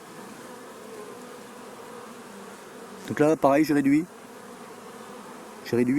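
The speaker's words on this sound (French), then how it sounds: "tout ça c'est des jeunes abeilles. Ça va être des abeilles d'hiver" A soft, steady buzz of many honeybees at a hive hums in the background throughout, with someone briefly speaking in French over it.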